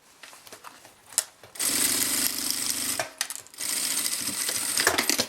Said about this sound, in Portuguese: vou passar agora a costura de segurança pra prender o forro no fole de